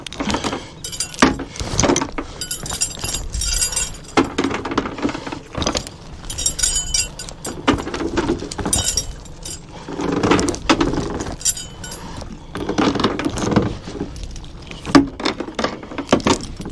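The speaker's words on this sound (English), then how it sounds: "Get the anchor off." Metallic clanking and rattling of a boat's anchor chain as the anchor is taken up, with irregular clinks and knocks repeating over several seconds, close by and fairly loud.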